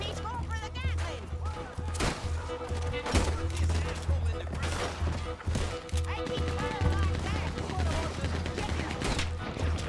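Rapid gunfire bursts from a Gatling gun in Red Dead Redemption 2, dense and continuous across the whole stretch, with other shots and crashes mixed in and voices talking underneath.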